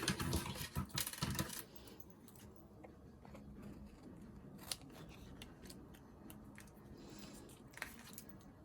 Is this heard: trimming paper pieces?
yes